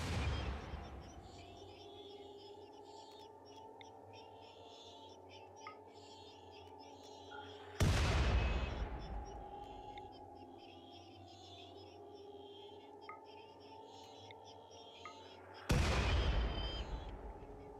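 Mortar rounds firing in a video game's endgame battle, with two loud booming blasts about eight seconds apart, each decaying slowly over a low steady background hum, under faint quiet talk.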